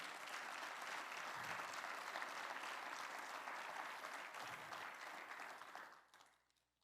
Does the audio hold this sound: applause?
yes